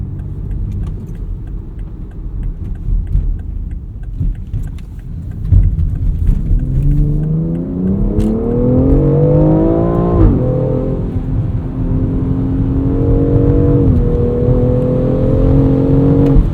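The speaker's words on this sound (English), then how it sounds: "Put the engine into Sport Plus mode." A 2020 BMW X4 M Competition engine in Sport Plus mode revs up loudly and steadily, its pitch climbing through gears with brief dips at each shift, over wet road and wind noise.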